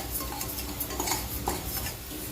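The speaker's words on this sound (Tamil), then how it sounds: "பச்சரிசியை வறுத்து பொரி ரெடி பண்ணிப்போம்." Dry raw rice grains rattle and scrape in a pan as they are roasted and stirred, with a steady rustling and faint clinks of a spoon, no voices.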